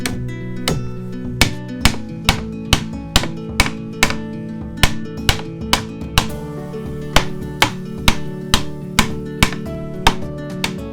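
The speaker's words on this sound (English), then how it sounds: "I'll hit it with a hammer to insert it." A carpenter hammers a tight-fitting wooden stair tread into its groove while renovating a steep staircase, about sixteen sharp, evenly spaced knocks ringing close and loud with a short wooden resonance.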